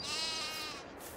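A sheep in the Farming Simulator game gives a single drawn-out bleat, faint and alone, wavering before it trails off.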